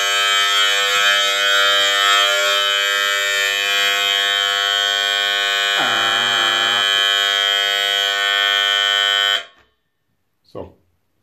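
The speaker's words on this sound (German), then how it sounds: "jetzt Alarm Wassermangel." A water-shortage alarm in a house cellar gives off a loud, continuous electronic buzz rich in harmonics for about nine seconds, briefly changing tone midway, then cuts out, followed by a short faint sound in the silence.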